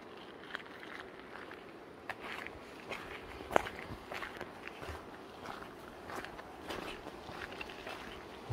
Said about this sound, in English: footsteps on gravel behind me, coming down the road I've just come.